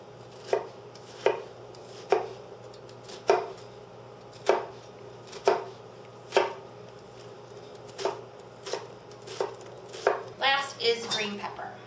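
A knife chops an onion on a cutting board with about a dozen crisp, evenly spaced thunks, close and clear, the cuts speeding into a quick flurry near the end.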